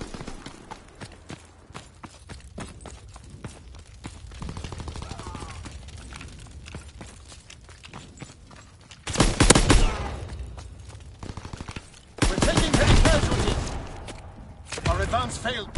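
Sustained gunfire in a battle video game, with dense bursts of shots, mixed with clip-clop-like beats that suggest horses, and loud volleys swelling near 9 and 12 seconds.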